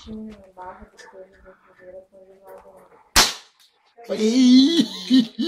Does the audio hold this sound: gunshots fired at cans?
yes